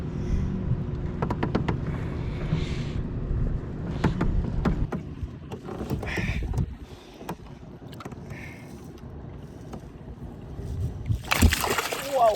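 A caught fish thrashing and splashing water aboard a fishing boat at Don Pedro during a bass tournament, with scattered sharp splashes and knocks over wind noise, a final loud burst of spray near the end, and a person speaking.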